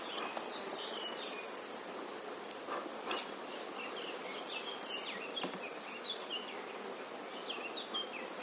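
Honeybees buzz softly and continuously around an open hive during a spring inspection on 30 March, a steady faint insect drone with a few brief louder passes close by.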